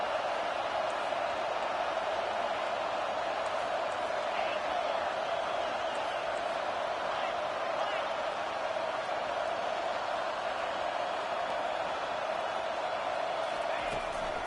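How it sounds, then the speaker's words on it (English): A stadium crowd roars on third down in a college football video game, a steady, dense wall of cheering that holds at an even level throughout with no breaks. "Decibels rising as the crowd gets behind this defense on 3rd down."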